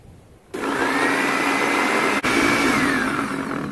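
An electric food chopper whirs steadily as it dices vegetables into small cubes, starting abruptly with a loud motor hum that briefly dips once before carrying on.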